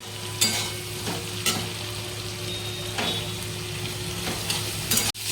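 Bitter gourd and prawns fry in oil with green chillies, turmeric and salt, giving a steady close sizzle broken by spatula scrapes about once a second and a sharp clunk near the end.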